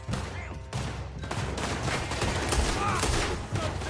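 A dense, chaotic fusillade of gunshots in Red Dead Redemption 2, shots overlapping in loud bursts for the whole stretch, with voices faintly under the firing.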